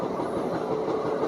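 A train passes through a station at speed, restricted to about 110 km/h on the route toward Hazrat Nizamuddin, giving a steady loud roar of wheels and rushing air.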